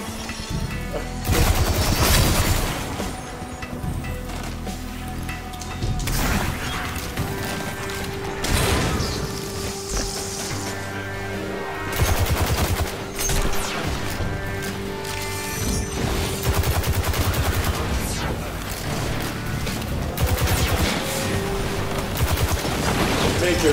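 Rapid gunfire in Destiny 2, repeated loud bursts of automatic shots with crashing impacts and mechanical clatter, continuous over about twenty seconds with faint voices underneath.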